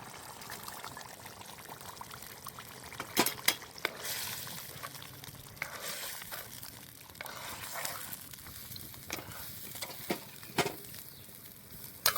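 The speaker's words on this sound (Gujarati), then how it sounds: "હવે આપણે એમાં નાખી દઈશું ચણાની દાળ" Chana dal poured into a pot of cooked water-and-gravy for a whole-onion and chana dal curry, giving a soft pouring, trickling splash over a low background bubble, fairly quiet.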